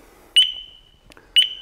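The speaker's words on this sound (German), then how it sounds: "Alarmanlage schärfen." A Pandora alarm system in an Adria Sport 640 SGX camper van chirps twice as it arms. Each chirp is a short, sharp, loud beep, about a second apart, close by and otherwise quiet.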